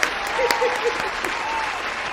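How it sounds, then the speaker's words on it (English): An audience applauds Devon James on a talk show, a steady burst of clapping with a few sharper individual claps and faint voices mixed in, holding at moderate loudness for a couple of seconds. "Everyone please give a round of applause to my friend Devon James, everybody"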